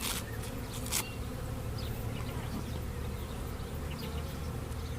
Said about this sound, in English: all these bees that are flying around